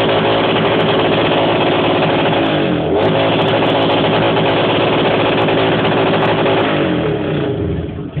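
A motorcycle engine revs loud and close in a loudest-motorcycle contest, sustained roaring at near-constant intensity with a brief dip in pitch partway through before it winds down at the end.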